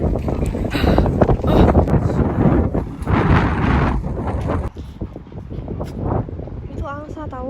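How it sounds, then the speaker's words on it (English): Strong wind gusts buffet the microphone while walking outdoors on a windy day in Venlo, Netherlands, a loud continuous rumble with people talking over it and a short burst of higher chirping near the end. "I'm walking, fighting the wind."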